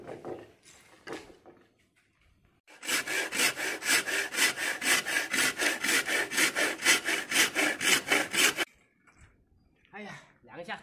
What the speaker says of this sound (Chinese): 拿锯子来把它割掉